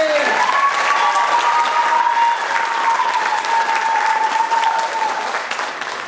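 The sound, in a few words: audience applause for award nominees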